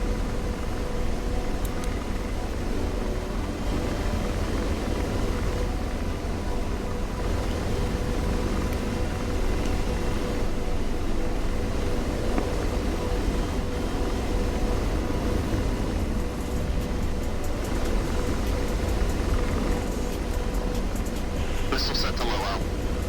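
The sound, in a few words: Apache helicopter flying in a video game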